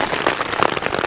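Steady rain patters on a tent during wild camping in heavy, pouring weather, a dense continuous hiss of drops close overhead with no voices.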